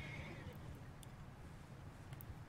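A horse whinnies in the Red Dead Redemption 2 video game, a brief high call set against a steady low rumble of game ambience and hoofbeats.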